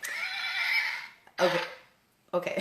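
A horse whinnies loudly and close by, followed by two shorter snorting neighs.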